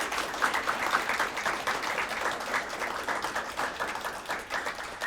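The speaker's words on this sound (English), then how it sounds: "Let's give our scholars another round of applause." An audience at a scholars' awards event claps steadily, a sustained round of applause from a crowd that lasts the full stretch without a break.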